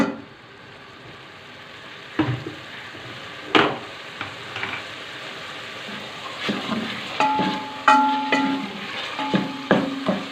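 Ghee, bottle gourd and mutton frying in a pot, a soft steady sizzle at moderate level with occasional clinks and scrapes of a spoon stirring against the metal.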